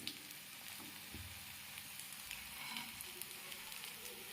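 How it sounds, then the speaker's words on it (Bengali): Semolina batter fries in hot oil on a tawa with a close, even sizzle, broken by a few low thuds and scrapes, and no one speaking. "তাওয়ায় তেল গরম করে 1 হাতা ব্যাটারটা দিয়ে দিয়েছি"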